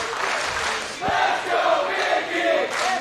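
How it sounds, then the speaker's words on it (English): Wrestling crowd at an IWA Mid-South King of the Deathmatches show chanting for Mickie Knuckles, a loud rhythmic chorus of many voices filling the hall in repeated swells, with a brief thump near the start. "the crowd breaks out into a Let's Go Mickie chant"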